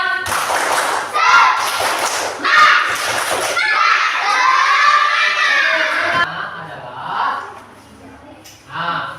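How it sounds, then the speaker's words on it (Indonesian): Elementary school class claps out the 'tepuk semangat' cheer in loud, rhythmic bursts that alternate with children's chanting voices, then gives way to speech. "kalau ada kita tepuk semangat sekali, tepuk semangat"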